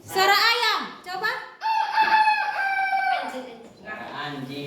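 A person imitates a rooster, crowing loudly in a long drawn-out cock-a-doodle-doo with rising and falling pitch, close to the microphone.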